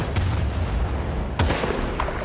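Gunfire in the video game Battlefield Bad Company 2 on the Arica Harbor map: a steady roar of shots with two sharp, loud reports, one near the start and a heavier one about midway, and no talk.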